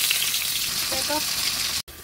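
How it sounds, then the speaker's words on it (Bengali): Rupchanda pomfret fish seasoned with salt and turmeric hit hot oil and fry in a loud, continuous sizzle, with a few light utensil taps before the sound cuts out abruptly. "এই সাইডে আমার তেল গরম হয়ে গেছে, আমি মাছগুলো দিয়ে দিলাম"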